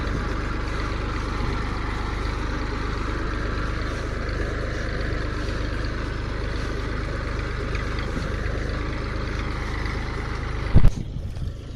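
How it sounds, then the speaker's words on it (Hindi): A tractor engine rumbles steadily as it drives into the middle of a field for crop spraying, a loud continuous low drone close by with a brief knock near the end. "फिर अपने ट्रैक्टर को हमको बीच खेत के अंदर ले जाना पड़ता है।"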